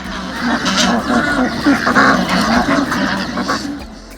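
Domestic ducks on a duck farm quack in a busy, overlapping chorus nearby, with faint voices in the background.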